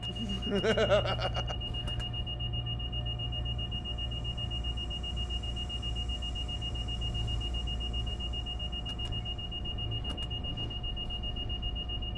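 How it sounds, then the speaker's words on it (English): A fire alarm sounds on board a train in Train Sim World 4 as a steady, high electronic tone that persists over the low rumble of the cab. There is a brief burst of sound at the start. "Attention passengers, we have a fire alarm going off."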